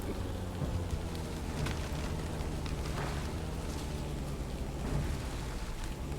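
Rain in the tank game GHPC falls as a dense, continuous hiss with low rumbling underneath, steady and enveloping throughout with no voices.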